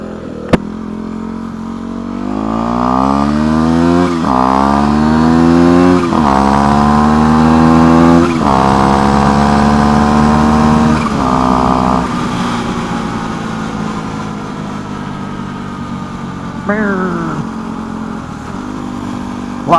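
A turbocharged Yamaha WR250R motorcycle engine accelerates through several gears, pitch climbing and dropping with each shift, loud and close, then settles into a steadier cruise.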